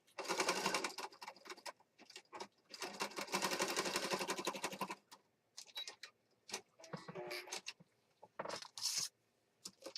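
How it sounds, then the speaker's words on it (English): A sewing machine stitches across a planner journal kit in loud, close bursts of fast mechanical whirring and chatter, stopping and starting several times with short pauses and small clicks between runs. "I'm going to the sewing machine and stitch right across here."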